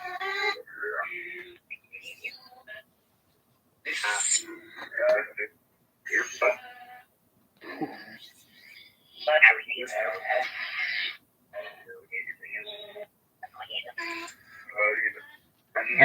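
A ghost-hunting spirit box device sweeping rapidly through radio stations, throwing out choppy bursts of static and clipped voice fragments with short gaps of silence between them; a person speaks intermittently over it.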